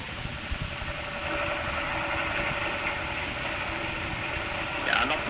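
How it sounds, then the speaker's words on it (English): Submarine motors run at full speed in an old radio drama, a steady low mechanical drone with faint whirring, muffled and distant, with a brief sharper sound near the end. "So we shall have to use our motors to pull ourselves free."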